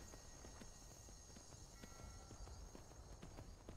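Steady clip-clop of horse hooves trotting in the video game The Elder Scrolls V: Skyrim, at a brisk, even rhythm over a constant background hum, with a faint snort or two.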